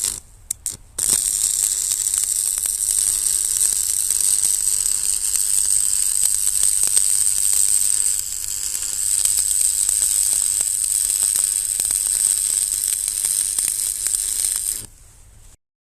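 Welding on a steel landscaping tamper build, a continuous crackling, sizzling arc that runs steadily for about fourteen seconds after a few short starts, then cuts off.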